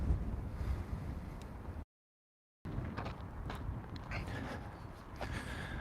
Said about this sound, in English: for the amount of wind that's hitting my face and hitting the microphone, this is doing a damn good job